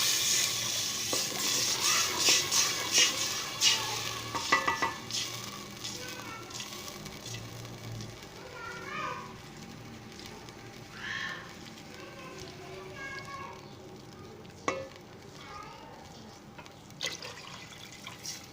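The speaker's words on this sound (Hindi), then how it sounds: "अभी इसमें मैं चावलों के लिए पानी शामिल करूँगा" Water from four glasses poured into a sizzling tadka for rice in a home kitchen, with dripping and splashing, a loud hiss of liquid hitting hot oil, then quieter bubbling and occasional stirring clinks.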